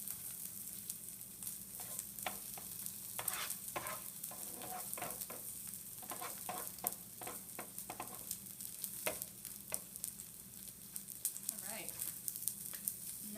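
Okonomiyaki sizzles steadily in a hot pan, a constant crackling fry with occasional scraping and stirring clicks from a utensil, close and moderately loud throughout.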